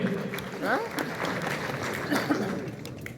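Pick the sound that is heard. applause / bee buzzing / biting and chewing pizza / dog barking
applause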